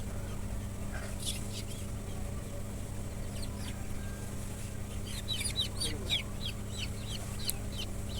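Chickens cluck and peep in a bowl on a weighing scale, with scattered soft calls over a steady low hum.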